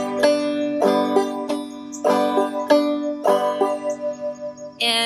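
A banjo plays the bum diddy rhythm in a beginner lesson, repeating a steady plucked pattern of bright struck notes with ringing harmonics, about four clear phrases, close and alone, ending on a sharp high brush.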